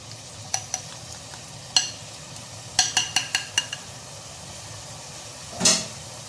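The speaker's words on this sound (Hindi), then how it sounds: "अब मैं इसमें डालूंगी दही वाला मिक्सचर।" Yogurt mixture poured into frying chicken karahi masala in a pan, a soft hissing sizzle swelling near the end after a few sharp clinks and scrapes of a utensil against the pot.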